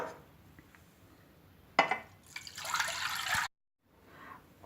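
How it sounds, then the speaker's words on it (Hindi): Milk poured into a kadhai, a short splash followed by a steady liquid stream lasting about a second, close and quiet, then a soft clink of the pan. "ये मैंने कढ़ाई ली है। इसके अंदर अब मैं दूध डालूँगी।"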